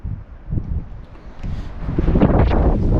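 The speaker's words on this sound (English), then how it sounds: "It's cold and windy up here" Wind gusts roar and buffet the microphone, low and rumbling, building louder toward the end with no one speaking.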